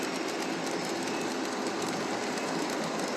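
A Kansas City ES44AC model locomotive runs past on its track, giving a steady, loud, continuous rolling rumble and clatter with no pauses, close by and without talk.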